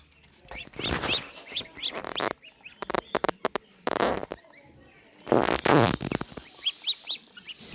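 Geese on a farm tear and munch grass in uneven bursts of rustling and pecking, mixed with short nasal honks and squeaky calls, close and fairly loud.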